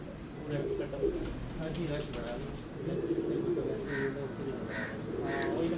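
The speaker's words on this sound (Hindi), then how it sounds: "बहुत ही खूबसूरत बिल्कुल पागल टोपी कबूतर" Pagal Topi breed pigeons coo softly and repeatedly over a steady background murmur, with people talking nearby.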